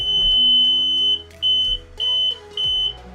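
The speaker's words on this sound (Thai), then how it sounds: "จะมีสัญญาณเตือนประมาณนี้นะครับ เพื่อให้รู้ว่าตอนนี้รถเปิดกุญแจไว้นะครับ" A tractor's key-on warning beep, high and electronic, repeats in short regular pulses, loud and close, after an initial longer tone.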